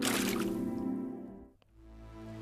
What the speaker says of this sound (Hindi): चारुलता उस तालाब से मटकी में पानी भरने लगी।